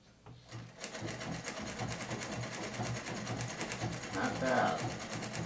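A vintage Bel Air sewing machine running a plain straight stitch, a steady fast mechanical whir with an even pulsing rhythm heard up close and continuous throughout.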